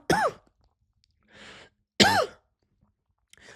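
Two sharp, close coughs or throat-clearings from a man on a basketball talk podcast, separated by a soft breath and short silences, with the start of another at the end.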